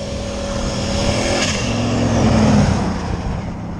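A turbocharged, LS-swapped Ford Ranger on studded ice tires accelerates hard, engine note climbing and swelling in a steady, loud roar that peaks and then holds, with no talking.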